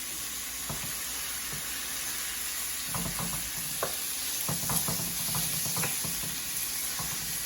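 Steak taco meat, about 2.5 pounds, sizzles steadily in a pan over medium-high heat, a constant close frying hiss broken by scattered stirring scrapes and clicks, with no talking.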